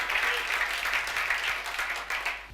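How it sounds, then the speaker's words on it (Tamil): An audience at a Bible study claps steadily together, a dense even patter of applause lasting the whole moment with no talking over it. "கைத்தட்டுங்க அவருக்கு."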